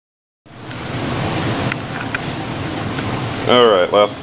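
Fuel draining from the tank of a KTM 1290 motorcycle through an opened valve, a steady rushing, trickling wash that starts abruptly and holds throughout, with a brief louder burst near the end.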